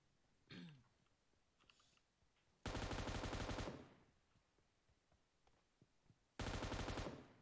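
An M249 machine gun fires in a video game, two loud sustained bursts about a second long each, separated by quieter gaps with faint background noise.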